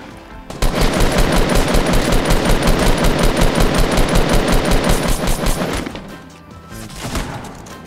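Rapid automatic gunfire rattles loud and close in a video game, a steady machine-gun stream of shots aimed at the player that lasts about five seconds before cutting out, leaving quieter thuds and ambience.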